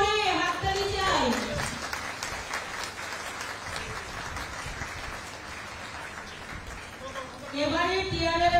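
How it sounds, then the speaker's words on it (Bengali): Applause breaks out for a person called to the stage at a public function, a steady wash of clapping in the middle, with a voice speaking before and after. "খুব জোরে হাততালি চাই।"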